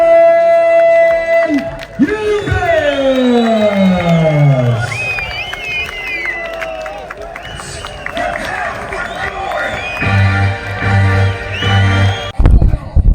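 Boxing-match crowd for Doğan Yıldız vs İskender Erdoğan cheering, whooping and whistling loudly throughout, with piercing whistles rising over the roar while a voice talks over the noise.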